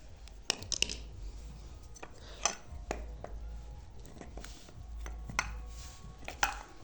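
A cooler motor being opened up gives off close, intermittent metallic clinks, taps and clatters as parts are handled and pried apart, spaced irregularly over a quiet background with occasional soft speech.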